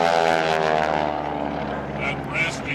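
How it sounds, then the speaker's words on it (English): Airshow airplane propeller driven by a Pratt & Whitney engine winding up, a steady droning roar with a rising tonal whine, loud and continuous, with an announcer talking over it. "Sounds like one of those old Spencer Tracy movies as that Pratt & Whitney winds back up."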